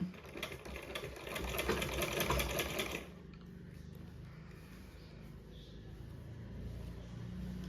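A sewing machine stitches a blouse neckline cross piece, running in a fast, close, rattling burst for about three seconds before stopping, leaving soft handling noise.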